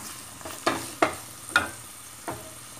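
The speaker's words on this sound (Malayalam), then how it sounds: "നല്ലപോലെ നമുക്ക് വഴറ്റി എടുക്കാം ഞാൻ രണ്ട് വലിയ വെളുത്തുള്ളിയാണ് എടുത്തിരിക്കുന്നത്" Garlic stirred in a hot pan for mutton mappas, a Kerala curry, with four distinct scraping clacks of the spoon at a steady pace over a faint background sizzle.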